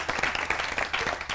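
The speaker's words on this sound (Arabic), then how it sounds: "تصفيق له." Brief burst of studio audience applause during a magician's television show segment, rapid clapping filling the room for a moment.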